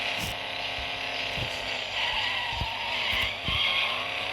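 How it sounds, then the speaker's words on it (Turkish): Cars in the Extreme Car Driving mobile game spin and skid, a sustained engine whine with screeching tire squeals and intermittent thumps, played through at moderate volume with no talking. "Çok dönüyor arabalar, çok kayıyor."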